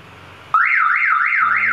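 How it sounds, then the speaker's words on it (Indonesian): Car alarm siren from an aftermarket smart start system, going off because a door is still open: a loud, close electronic wail sweeps up and down steadily for about a second after a low hum cuts off. "Nah, ini karena pintunya belum ditutup, jadi sirine alarm berbunyi."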